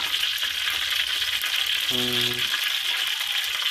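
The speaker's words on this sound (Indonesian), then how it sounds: "Jadi kita goreng dulu sedikit supaya minyaknya bisa" Octopus pieces fry in hot oil with a steady, close sizzle and crackle throughout, with a brief tonal hum in the middle and no talking.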